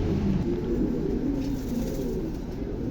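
A pair of big-sized, high-quality pigeons cooing, low rolling coos running continuously and fairly close, with no talk over them.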